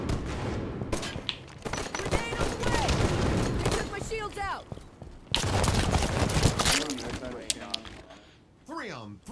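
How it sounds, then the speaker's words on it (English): Dense gunfire crackles through a Halo 5 multiplayer match with bursts of rapid shots and booming blasts, dropping out briefly midway, while several players talk over the action. "Grenade! Grenade on the way!"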